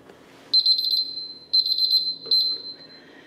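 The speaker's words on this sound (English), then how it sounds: "That's my timer, time to pull these out." A kitchen timer beeps in three close bursts, signalling hard-boiled eggs are done, each a rapid high-pitched trill lasting about half a second, loud and near.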